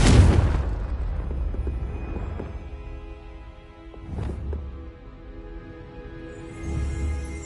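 The Confringo explosion spell in Hogwarts Legacy bursts loudly at the start, and a second, weaker boom follows a few seconds later, each trailing off into a rumbling fade.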